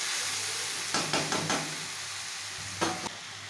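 Bottle gourd (lauki) bhujia cooking on a low flame in a wok, giving a soft steady sizzle with a few brief stirring scrapes, close and alone without talk.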